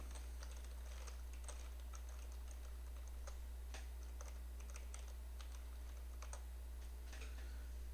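Typing on a computer keyboard during an online spreadsheet lesson, a steady run of light, close key clicks at an uneven rhythm over a constant low electrical hum.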